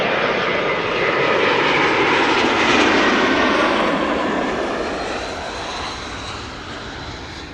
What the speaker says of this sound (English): KLM Asia, arriving from Atlanta, that's in the United States of Asia, as Mercer would say. KLM flight 622, 777-200